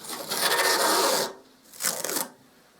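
A blade slicing down the centre of a roll of masking tape on a platform gives a long rasping scrape, then a short pause and a second, briefer cut, close and alone.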